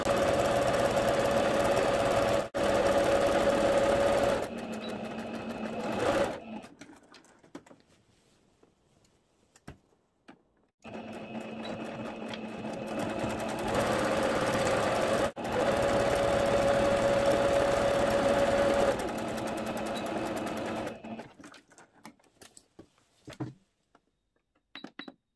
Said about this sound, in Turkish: Öncelikle yan dikişlerimle dikişime başlıyorum.